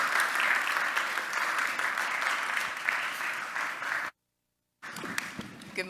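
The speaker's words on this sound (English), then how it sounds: "we could kind of give her a round of applause of greeting and encouragement" An audience claps warmly for several seconds to greet a speaker at a morning summit. The applause cuts off abruptly, and after a brief silence a voice begins talking.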